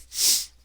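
A single sharp, breathy sneeze bursts out close by, hissy and brief, with no talking around it.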